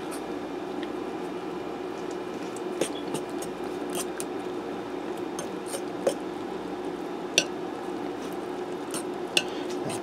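Potato stuffing being stirred in a Ninja multi cooker, a steady wet scraping and squishing with a few sharp clinks of the utensil against the pot, close and continuous.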